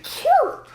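A single short sneeze with a rising, falling pitch sounds close and loud.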